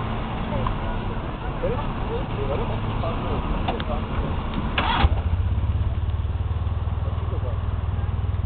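A buggy engine runs steadily with a low, buzzing drone, revving briefly midway and then settling into a throbbing idle, with voices faintly in the background.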